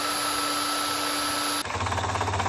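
A power drill whirs steadily, then its pitch and texture shift abruptly as it bites into wood for a desk shelf, running close and loud without pause.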